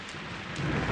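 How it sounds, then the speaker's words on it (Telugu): Rain pours steadily with thunder rumbling through it during a brief, dense stretch that swells louder toward the end, with no voices. "వర్షం"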